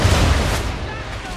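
Ship cannons firing in Assassin's Creed III, a heavy booming broadside that rumbles loudly at the start and then decays into a low roar.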